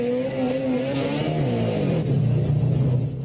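A lightweight, high-revving front-drive Nissan Sentra SE-R rally car at the 2013 Rallye Baie des Chaleurs, its engine revving hard and climbing in pitch, loud and close throughout.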